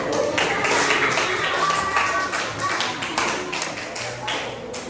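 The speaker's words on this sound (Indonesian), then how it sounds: "Kasih tepuk tangan" Children in a classroom clap together, a dense run of sharp overlapping claps filling several seconds at steady strength, with a few voices mixed in.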